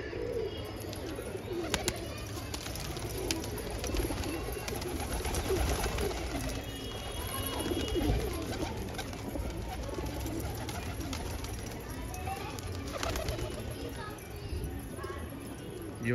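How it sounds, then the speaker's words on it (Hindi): Pigeons cooing in a fancier's loft in Rohtak, a soft continuous murmur of low coos with occasional wing flaps, faint and steady throughout, with quiet human voices in the background. "वाह जी वाह, बहुत बढ़िया कबूतर है"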